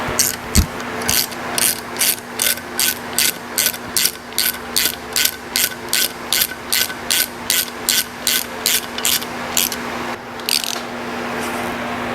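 A ratchet wrench clicks in a steady run of about twenty quick bursts while reassembling the 350 engine of a 1979 GMC Heavy-Half truck, close and loud over a low shop hum, no talking.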